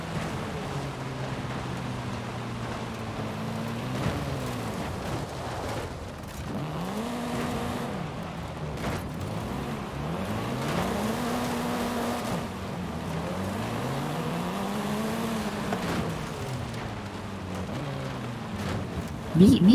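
Car engines in Forza Horizon 5 during an offroad cops-versus-racer chase, with repeated rising and falling revs as gears shift, over a constant noisy wash and under talk.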